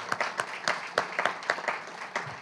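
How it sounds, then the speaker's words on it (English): A small audience at a poetry center sign dedication claps, with sparse, distinct individual hand claps spread unevenly over a couple of seconds, moderately close and without talk. "One more round of applause for Deborah Jackson Taffa"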